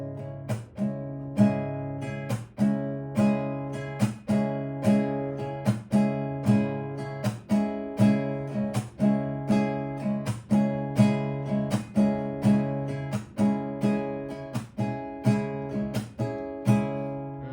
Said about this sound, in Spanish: Esta es, digamos, como una variación así como de una especie de bambuco sureño.